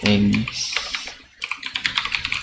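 Computer keyboard typing follows a brief spoken phrase, a quick rhythmic run of close, crisp key clicks.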